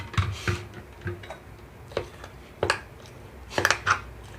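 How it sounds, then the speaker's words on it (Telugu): Scattered light plastic and metal clicks and taps as a mixer-grinder jar lid is opened, a handful spread out over a few seconds, close and quiet with no voices, after coarsely grinding tamarind leaf and tomato chutney. "మూత తీస్తున్నాను"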